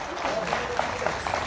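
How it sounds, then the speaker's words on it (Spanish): Audience applause for the bolero group Los Dandys at the Plaza del Bolero in Mexico City, a steady dense wash of clapping from a crowd with a few sharper claps standing out. "Yo quisiera, de parte de ustedes, tributarle un fuerte, cariñoso y amable aplauso a esta gran agrupación."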